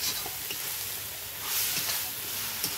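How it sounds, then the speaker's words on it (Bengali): Onions sizzling in hot oil with bay leaves and whole spices, a steady soft hiss and crackle that swells briefly midway, fairly close and with no talking. "এই যে পেঁয়াজ দিয়ে একটু কষে নিল।"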